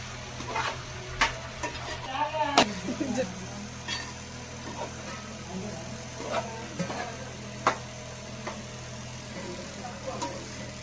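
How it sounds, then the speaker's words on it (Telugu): Chicken pieces stirred in a pan for a Telangana-style chicken curry, with irregular scraping strokes of a spoon over a steady low sizzle and kitchen hum, close and moderately loud. "ఇప్పుడు ముక్కకి బాగా కలిపేటట్టు కలుపుకోవాలి."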